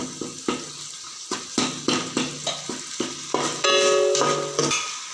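Chicken or mutton curry masala sautés in a pan, with a spoon scraping and stirring in an irregular rhythm of close, crisp strokes over a soft, steady sizzle.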